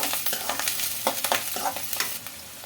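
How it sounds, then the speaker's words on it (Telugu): Onions with cumin, mustard seeds and curry leaves frying in hot oil, a steady sizzle broken by repeated scraping strokes of a spoon stirring the pan, close and moderately loud. "ఆనియన్స్ కొద్దిగా కరివేపాకు తీసుకొని బాగా గోల్డెన్ బ్రౌన్ కలర్ వచ్చే వరకు ఫ్రై చేసుకోవాలి"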